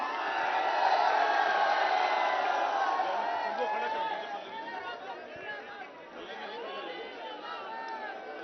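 A large crowd at a political rally chatters and murmurs continuously, a dense wash of many voices with occasional cheers, loud at first and then easing slightly.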